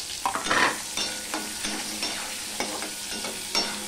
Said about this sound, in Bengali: আলুগুলো দিয়ে আমি ভেজে নেব ভালো করে ঢাকা দিয়ে দিয়ে